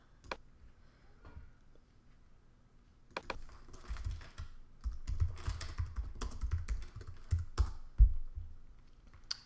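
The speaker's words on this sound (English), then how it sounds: "we can type in Laura Leonardo as the owner of the property, and we'll see what comes up" Computer keyboard typing for an online property search, scattered clicks at first, then a busier, louder run of close keystrokes.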